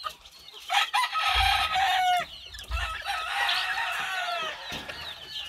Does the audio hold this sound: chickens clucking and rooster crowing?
yes